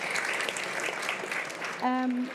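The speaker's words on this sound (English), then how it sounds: "Let's clap and thank them all." Applause from the audience at a green hydrogen panel session, a dense wash of clapping that ends as a voice cuts in near the close.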